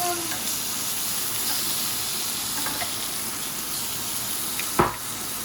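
Filet mignon sears in a cast iron skillet with a steady, loud broadband sizzle and hiss that holds for the whole stretch. A single sharp clack comes near the end, and no one speaks.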